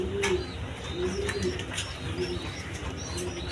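A pair of yellow Lahori pigeons coo in soft repeated low throaty phrases, close by, over a light background hum with faint chirps from other birds.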